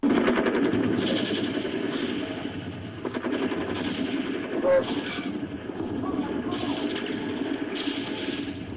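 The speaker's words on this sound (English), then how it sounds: "The sounds of multiple gunshots echoed through the downtown Bangor area." Gunfire in a downtown Bangor street scene, repeated sharp shots in irregular bursts over a dense, busy dramatized background, loud throughout.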